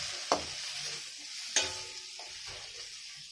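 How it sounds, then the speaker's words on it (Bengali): Tomatoes with salt frying in a pan, a steady soft sizzle broken by two sharp scrapes of stirring, close and moderately quiet with no talk. "নুন দিয়ে আবার এই টমেটোকেও ভালো করে ভেজে নেব।"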